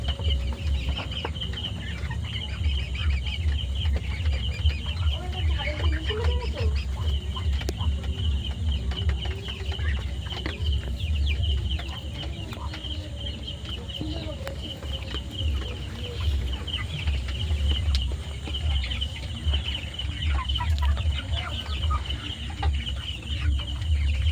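Tiger-breed chickens cluck and call softly across a farm yard, a steady low murmur of many birds with scattered faint calls throughout, no one speaking.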